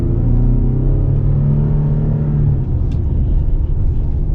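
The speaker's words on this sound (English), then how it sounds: "Now let's get our acceleration here at the Colorado." A 2021 Chevy Colorado ZR2 truck with a naturally aspirated 3.6-liter V6 accelerates hard, a loud, deep engine drone that climbs in pitch, then shifts and settles into a steady rumble, heard from inside the cab.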